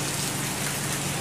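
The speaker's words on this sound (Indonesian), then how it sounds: "Alhamdulillah turun hujan." Steady rain falling on a surface, a dense continuous patter of drops at even loudness throughout, with no voices.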